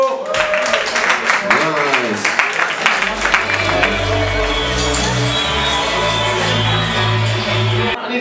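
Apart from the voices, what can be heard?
audience applause for a performer at music event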